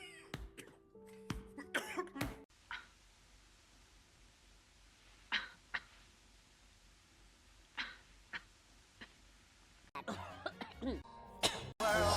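Several short coughs ring out in a movie scene, separate and fairly close, spaced across a quiet stretch, with dialogue and noise at the start and end.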